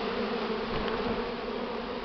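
A swarm of honeybees buzzes close around a beekeeper during spring swarm capture, a dense, continuous droning hum with steady pitch and no talking.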